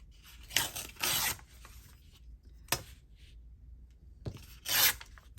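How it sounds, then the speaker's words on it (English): A paper book page torn by hand for a faux envelope journal spot, heard as several short, quiet, close ripping strokes with pauses between them. "That was good tear."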